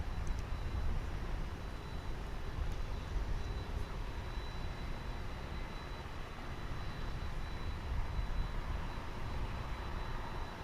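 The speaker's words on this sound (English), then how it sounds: "Let's follow along with this 757" Boeing 757 airliner at DFW International Airport, heard as a steady, distant broadband engine roar with a deep low rumble that holds evenly throughout, no voices present.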